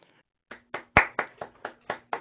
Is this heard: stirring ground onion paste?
no